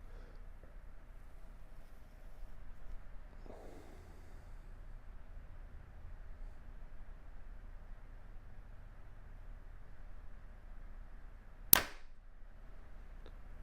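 A Hoyt Torrex XT compound bow fires an arrow: a single short, sharp snap-thump stands out against a near-silent outdoor background, with only a faint rustle earlier and no voices.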